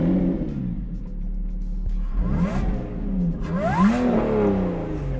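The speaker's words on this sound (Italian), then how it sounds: "Facciamo due sgasate?" A Lotus Evora 400 with a sports exhaust revs up sharply twice, rising and falling in pitch with a throaty roar, close and loud over a steady idle.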